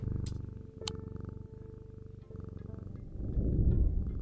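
A cat purrs in the video game Strange Antiquities: a low, steady, rumbling purr that continues for several seconds, close and alone, swelling slightly louder toward the end.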